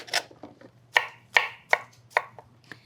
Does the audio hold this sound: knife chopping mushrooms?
yes